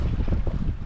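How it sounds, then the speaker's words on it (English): Steady wind gusts buffet a fishing boat on open water at Rivers Inlet, a loud continuous rumble and roar across the microphone. "Pretty breezy today"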